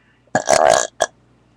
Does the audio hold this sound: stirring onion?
no